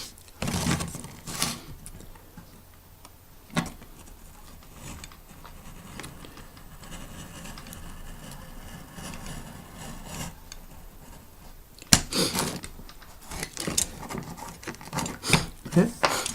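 A knife scrapes and cuts through pieces of an Antares terrain bunker model, with soft rasping strokes and a few sharper bursts near the end at close range.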